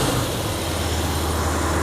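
A 1967 Ford F100 shop truck engine runs smoothly up close, a steady even drone with a low rumbling hum and no stumbles or breaks across the short stretch.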